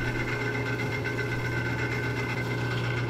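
A woodturning lathe spins at about 600 RPM with a steady, even motor hum and a soft mechanical whir, sounding alone and unchanging throughout.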